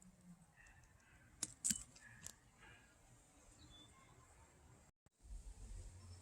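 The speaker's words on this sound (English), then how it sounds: "I'm going to pick some peas here for dinner. These are my tiny little scissors." Tiny scissors snip peas off pea plants in a garden: a few quiet, sharp clicks close together in the first half, set against soft outdoor ambience.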